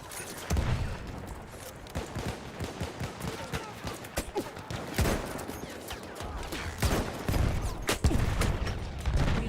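Gunfire in the video game Battlefield, a battle royale mode: bursts of rapid shots and sharp single cracks ring out through the clip, mixed with scattered impacts and busy background game noise.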